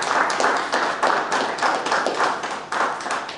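A steady round of audience applause follows the close of a lecture by a professor on Gabon's situation and future, dense overlapping claps filling the room at an even level with no talk over them.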